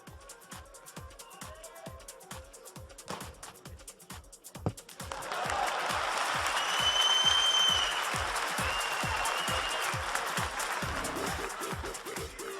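A crowd applauds at a League of Legends cosplay contest winter final in 2014, a dense, loud wash of clapping that swells midway and holds over a steady thumping music beat.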